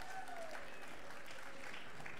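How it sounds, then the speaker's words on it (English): Audience applause at a Golden Shears woolhandling semi-final, a steady broad patter of clapping that holds at even level through the short stretch without pause. "Give them a round of applause, please."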